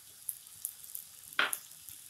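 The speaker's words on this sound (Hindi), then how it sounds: "इन दोनों को हम अच्छे से मिक्स कर लेंगे सब्जी में।" Garam masala and fresh coriander leaves being stirred into a frying green bean and potato sabzi, a soft sizzle with light scraping clicks and one brief louder stir, quiet and close.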